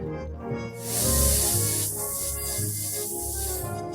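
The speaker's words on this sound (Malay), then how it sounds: "kita sembur buah-buahan" A spray bottle with a twist-turned nozzle mists fruit in a home kitchen, giving a sustained bright hiss over steady background music and low rumble.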